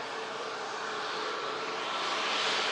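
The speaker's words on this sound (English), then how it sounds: "Another aircraft just on a very slow taxi." An airliner taxiing slowly at Manchester Airport gives off a steady, broad engine roar that swells slightly toward the end, heard from a moderate distance with no speech.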